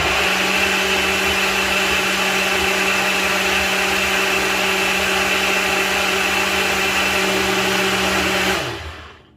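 A strong blender whirs steadily through an orange chocolate ice cream mixture, a loud continuous motor drone with a constant hum, then winds down and stops near the end.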